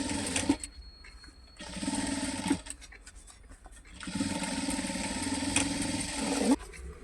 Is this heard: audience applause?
no